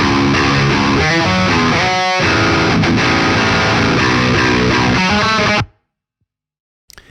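Distorted electric guitar through a blend of three GGD Studio cabinets with light processing, played as loud, steady chords and riffs with brief pauses, cutting off abruptly into near silence near the end.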